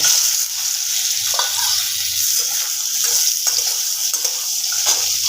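Steady, loud frying sizzle of lentil dumplings, potato and aubergine cooking with dried chilli and turmeric, with irregular scraping stirs from a spatula running throughout.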